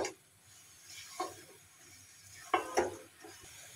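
Washed raw bananas tossed into a pan with fish, cooked without oil, giving a faint soft sizzle broken by a few sharp metallic clatters of utensil against pan.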